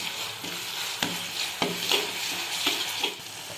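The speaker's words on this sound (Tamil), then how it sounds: "வெங்காயத்தை நல்லா வதக்கிக்கோங்க தொக்குக்கு," Onions with ginger garlic paste sautéing in a pan for a dried-anchovy thokku, a steady sizzle and fry broken by repeated scraping stirs of the spoon, close and alone without talk.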